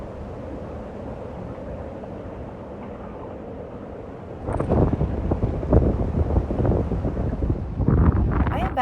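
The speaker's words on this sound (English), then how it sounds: "It is howling out there. The wind is really bad today" Strong wind buffets a desert campsite in Quartzsite, a steady low roar that turns into loud, gusty rumbling against the microphone partway through.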